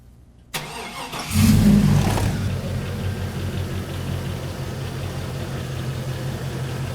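A 2002 Chevrolet Silverado engine starts with a sharp burst, and a loud rev climbs near the mic. It then settles into a steady, rumbling idle that runs to the end.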